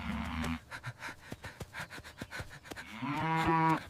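A cow moos loudly and nearby in a rural village, with a short low moo, then rhythmic heavy panting or breathing, then a longer, rising bellow.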